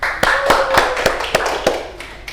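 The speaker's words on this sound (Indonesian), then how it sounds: "Oke, silakan tepuk tangan." A classroom of students claps together in a loose, uneven rhythm, with about seven sharp hand claps over a murmur of voices and chatter in the room.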